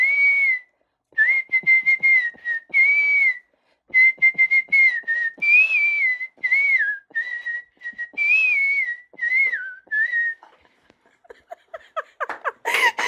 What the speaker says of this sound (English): What is your favorite song to whistle, and can we hear it?